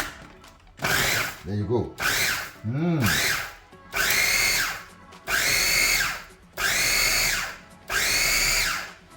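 An electric grinder whirs through Sri Lankan chili paste in loud repeated bursts of several seconds each, separated by short pauses, with brief speech between the early pulses.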